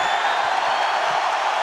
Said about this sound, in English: Huge response from the crowd under 2 minutes here, round 2.